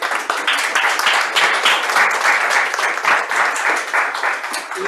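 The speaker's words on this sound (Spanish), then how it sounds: "Bueno, le damos entonces otro aplauso a María." A seminar audience applauds a presenter, steady dense clapping filling the room at close range, even and unbroken for several seconds with no talk over it.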